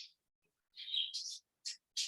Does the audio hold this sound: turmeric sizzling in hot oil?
no